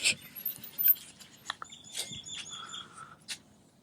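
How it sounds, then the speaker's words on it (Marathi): Birds chirp and tweet in short, scattered bursts at a poultry farm, with a few sharp high calls and a brief whistled note, fairly close over a quiet background. "मस्त पक्ष्यांचे आवाज वगैरे ऐकून हिलिंग होतं"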